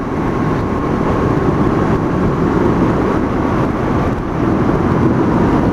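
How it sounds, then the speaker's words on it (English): Honda CB500F motorcycle ridden along a bendy road with rough tarmac: a steady, loud roar of engine and rushing wind, continuous throughout with no talk. "now let's see how well this bike can do with these roads"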